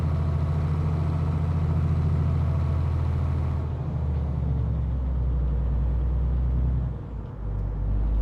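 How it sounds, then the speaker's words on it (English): Mercedes Actros truck engine in Euro Truck Simulator 2, running with a sound mod, as a loud, steady low drone that shifts pitch partway through, with a brief dip near the end and no talk. "I can hear the engine revs very high, and I can hear like the valves rattling and stuff."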